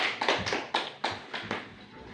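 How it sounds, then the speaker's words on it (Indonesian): Scattered hand claps from a school classroom during a grade 8 civics lesson, a handful of sharp, irregular claps from a small group, close and fairly loud, with no talking. "Kita memberikan aplaus kepada kelompok 2 yang telah mempresentasikan hasil kerjanya."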